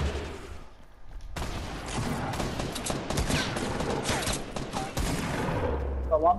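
Shotgun blasts and other weapon fire in a Fortnite Battle Royale match, a dense string of loud, sharp shots and impacts over several seconds, with players talking faintly underneath.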